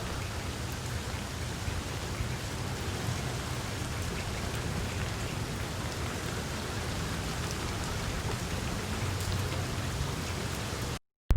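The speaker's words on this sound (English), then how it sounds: "And look at the rain, so beautiful" Rain falls steadily outdoors among trees, a constant wash of drops striking surfaces at moderate loudness, with no voices, before cutting out briefly near the end.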